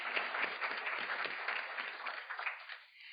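An audience at a meeting on the Extended Day-Ahead Market gives a round of applause, a dense, moderately quiet patter of many hands clapping that holds steady before tapering off at the end.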